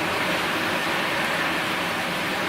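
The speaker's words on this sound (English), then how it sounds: "The rain is getting pretty loud." Loud, steady rain falls across the whole stretch in a continuous broadband hiss with no pauses, heard outdoors at night in Japan while someone tries to view Jupiter's moons.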